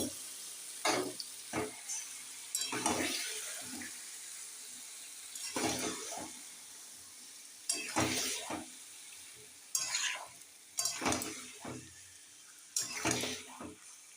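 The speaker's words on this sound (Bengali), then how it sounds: "এবার মাটনটাকে ভালো করে কষিয়ে নিই।" Mutton is stir-fried in a pan over browned onions, with repeated bursts of spatula scraping and hissing sizzle arriving in an uneven rhythm between quieter stretches of frying. There is no speech.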